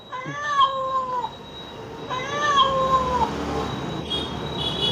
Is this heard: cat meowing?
yes